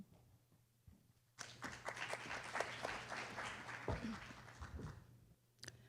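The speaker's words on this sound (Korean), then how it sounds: "여러분 큰 박수로 맞아주십시오." Audience at a university forum on unification and peace breaks into applause, a dense patter of many hands that starts abruptly, holds steady for several seconds and then tapers off, moderately distant in a hall.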